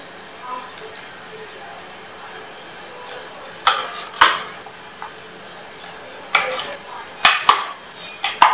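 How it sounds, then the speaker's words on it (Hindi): Soft mango chunks drop into a hard mixer-grinder jar, with a handful of clattering knocks and clinks in quick clusters near the end. "आमरस बनाने के लिए हम आम के टुकड़ों को मिक्सी के जार में डालेंगे"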